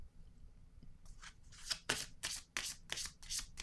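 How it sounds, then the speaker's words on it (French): Tarot cards handled and laid down one by one: after a quiet second, a run of about eight crisp, close papery slaps and swishes follows in a quick, uneven rhythm, with no talking. "Je vais déposer une carte sur elle."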